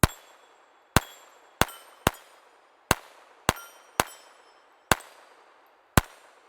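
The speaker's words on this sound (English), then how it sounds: "You can fire this handgun double action." Walther P22 handgun shots ring out one at a time, nine sharp reports with an irregular gap of about a second between them, each cracking loudly and then decaying in a short metallic ring.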